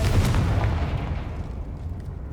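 A Confringo blasting spell explodes in Hogwarts Legacy at Rookwood Castle: one loud, deep boom up close that rumbles and fades away over about two seconds.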